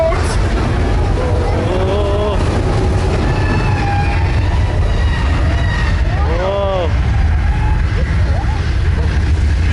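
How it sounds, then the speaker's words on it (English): Collapse effect on a theme park studio tram ride through a mock subway station: a loud, continuous roar of rumbling and rattling with metallic screeches and squeals, with voices talking over it. "Oh no, the first floor just collapsed."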